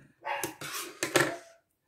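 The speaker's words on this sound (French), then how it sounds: "Et quand je fais les vidéos, c'est le moment où elles aboient." A few small dogs bark indoors in a quick burst of three or four sharp, close yaps, then fall silent.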